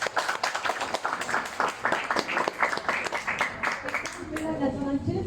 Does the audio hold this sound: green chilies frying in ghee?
no